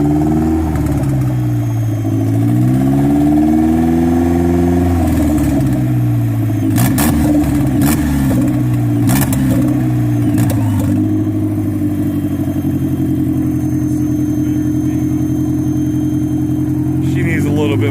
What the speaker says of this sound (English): give it a little gas over here, see what she does.